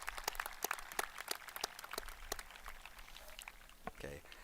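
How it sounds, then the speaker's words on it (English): Scattered claps ring out at the 2025 Independence High School graduation ceremony, sparse and uneven, fairly faint, and thinning toward the end. "Let's give them one more big round of applause because that takes a lot of courage."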